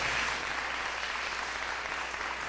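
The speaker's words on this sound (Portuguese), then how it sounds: "Glória a Deus, aplauda o Senhor." A church congregation claps together in praise, producing a steady, dense wash of applause from many hands that holds at an even level for the whole stretch, with no clear speech.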